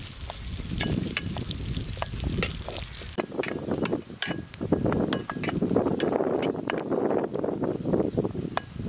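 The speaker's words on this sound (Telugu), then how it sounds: "పచ్చిమిర్చి ఇవన్నీ లైట్గా ఫ్రై చేసుకోవాలి." Green chillies frying lightly in a pan give off a steady close sizzle, broken by sharp clinks and scrapes of a spoon stirring against the metal throughout.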